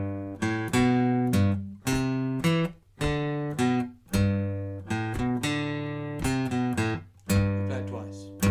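Guitar plays the intro riff of a song, a steady run of plucked notes and ringing chord tones, close and clear with no talk over it.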